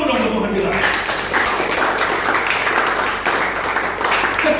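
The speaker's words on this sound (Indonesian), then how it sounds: "Tepuk tangan dulu dong Tuhan kita" Congregation clapping in a church service, steady applause filling the room throughout with some voices and cheering mixed in.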